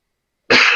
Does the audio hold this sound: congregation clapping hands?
no